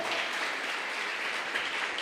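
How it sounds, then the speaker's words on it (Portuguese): A church congregation applauds, producing a loud, continuous wash of clapping that holds steady throughout, with no talking over it. "Você pode aplaudir o Senhor."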